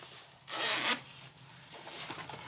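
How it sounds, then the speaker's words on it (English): A zipper is pulled open in one quick rasping run, close by, followed by faint rubbing and a softer second scratch. "So the first thing that I like to do is to go ahead and open up my zipper."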